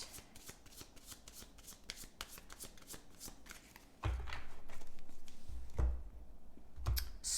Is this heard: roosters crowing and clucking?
no